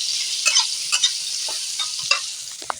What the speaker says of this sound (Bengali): আলুটা একটু ভাজা ভাজা করব,